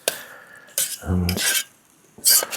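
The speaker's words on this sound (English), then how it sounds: "as I said, keep stirring." A utensil scrapes and clinks against a camping pot while food is stirred outdoors in Glen Affric, a few short metallic strokes separated by quiet gaps.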